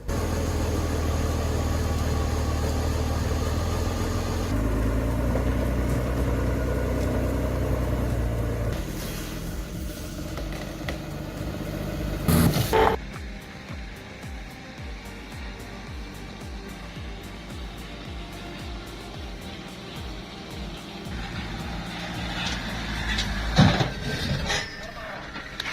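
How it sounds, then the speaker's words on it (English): A heavy truck engine roars steadily at length while the truck spins in deep mud, loud and close, then drops to a lower rumble with a few sharp bursts as traction is lost. "Watching a heavy truck spin helplessly in deep mud feels like watching frustration become mechanical reality. The engine roars, traction disappears"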